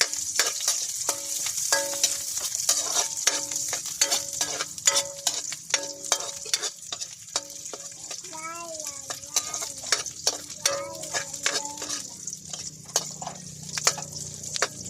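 Seasoned pork liver sautéing for adobo in a countryside kitchen, a loud continuous sizzle with rapid spatula taps and scrapes throughout and a brief bubbling stretch midway, close up.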